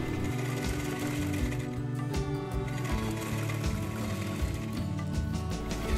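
A half shutter sewing machine stitching a saree fall, running in a fast steady mechanical chatter with rhythmic needle thumps, loud and close, alone without talk.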